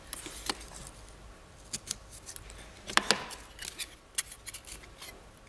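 Foam board being sliced with a blade, heard as a scattering of short, soft scraping cuts and rustles, close and fairly quiet, with a couple of sharper bursts near the middle.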